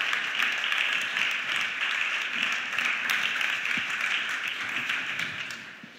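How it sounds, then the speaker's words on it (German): Steady audience applause at a panel discussion on ethics and technology, a dense wash of clapping that holds evenly for the full stretch before tapering slightly at the end, with no talk over it. "Frau Spiekermann, ein Applaus gerne"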